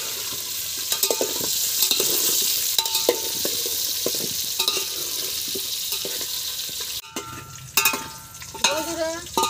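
Potato pieces frying in hot oil for chicken biryani, a constant close sizzle with scattered stirring knocks, followed by a quieter stretch with running water and clinks near the end.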